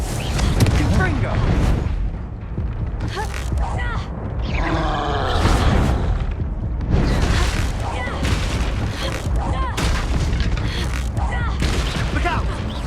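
Confringo blasting spells exploding in the Hogwarts Legacy video game, loud booms and crackling blasts layered with combat grunts and continuous game noise, with voices shouting spell names.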